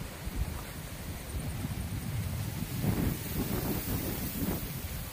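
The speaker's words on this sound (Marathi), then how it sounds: "वारा सुटलाय छान" Steady wind rushes and buffets the microphone in a farm field at night, a continuous low roar with gusts that swell slightly and no voices.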